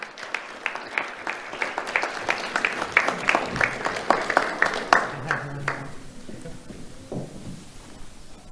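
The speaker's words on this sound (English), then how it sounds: "Let's have a round of applause for Edel and Ladaria." An audience at a school awards ceremony claps for two honoured middle-school students: sustained crisp applause that builds, then fades out after about six seconds into quieter room sound and a few stray noises.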